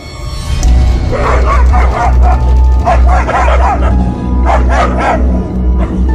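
A dog barks and yips repeatedly in loud bursts, close up, at a tire puncture repair shop, over a heavy low rumble of traffic or engine noise.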